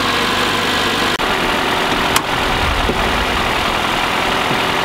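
A car engine idles steadily after a manual transmission rebuild, giving a loud, continuous drone with a few faint knocks. No voices are heard.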